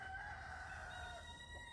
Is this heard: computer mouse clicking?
no